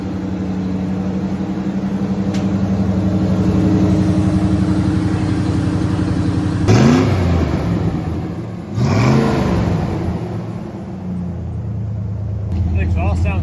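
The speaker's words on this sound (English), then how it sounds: "The exhaust sounds so much better now that it's not just constantly chirping." A 1982 Ford Bronco engine runs through its exhaust in a steady low rumble near the microphone, with brief revs that rise and fall twice.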